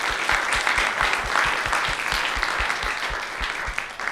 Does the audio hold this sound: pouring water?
no